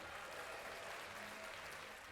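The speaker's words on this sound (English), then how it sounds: "I might have the applause button right here." A canned applause sound effect triggered from a button plays briefly and quietly, a steady wash of clapping with no other sound.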